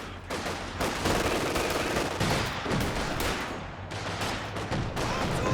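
Grenades launched amid a Company of Heroes 2 battle, with dense bursts of gunfire and thudding blasts crowding together in a loud, continuous barrage.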